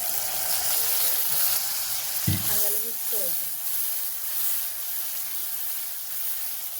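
Ginger-garlic paste hitting frying onion in a pan while cooking palak paneer, a steady broadband sizzle throughout with a sharp burst of spitting when the paste goes in, close and fairly loud, no talking.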